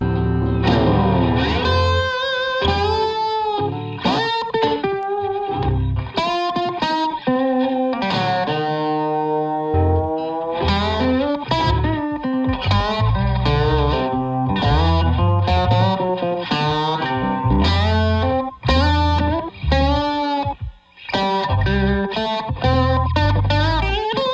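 A distorted Collings 360 electric guitar through Two-Rock and Deluxe Reverb amps plays a melodic solo with sustained bends and quick runs, thickened by an echoing slapback delay, loud and continuous.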